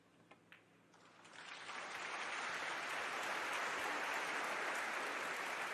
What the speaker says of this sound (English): The crowd acknowledging match ball.